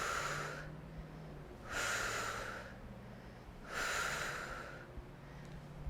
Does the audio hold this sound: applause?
no